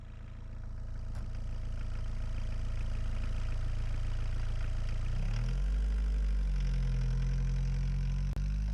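Steady engine of a VW T3 Vanagon converted for off-road use with a rear locker and aggressive tires, running on a test drive; a continuous low hum deepens and grows louder about halfway through, with no talk.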